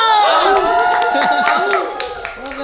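Crowd at a house Christmas party cheering and shouting for Kian, loud close voices whooping and yelling together in overlapping pitches, with clapping mixed in.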